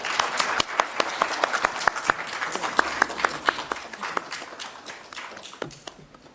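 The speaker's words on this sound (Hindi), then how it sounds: "सिर्फ तालियों की है" At a theater festival award ceremony, scattered applause builds from distinct, sharp individual claps into a patter that thins toward the end. A few pairs of hands stand out close by.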